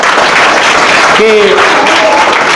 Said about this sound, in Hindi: एक बार आप लोग जोरदार ताली बजाइए।